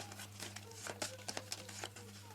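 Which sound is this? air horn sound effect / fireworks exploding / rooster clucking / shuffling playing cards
shuffling playing cards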